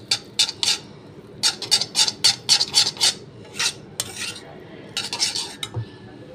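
Noodles and egg stirred in a pan over a gas flame, with a utensil scraping and clattering against the pan in repeated bursts, fairly close and without talk.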